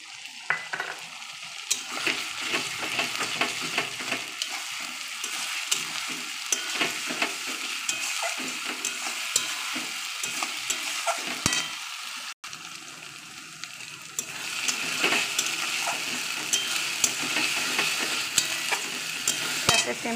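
Ground spice paste hits browned onions in a hot pan, giving a loud continuous sizzle and frying hiss with repeated stirring scrapes and occasional utensil clinks, steady throughout with no talking.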